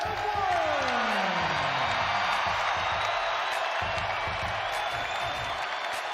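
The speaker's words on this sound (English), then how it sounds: "you can hear this crowd erupt" A large stadium crowd cheering for a Michigan wide receiver at a national championship celebration in Ann Arbor, a steady, dense roar that holds without letup, with a voice faintly over it.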